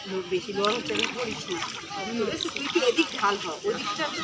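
A rowboat paddled on a lake in an eco park in the late afternoon, water splashing and sloshing softly against the hull beneath near, continuous conversation.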